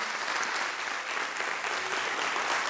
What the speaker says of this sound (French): je vais vous demander deux choses. D'abord d'applaudir les speakers, s'il vous plaît.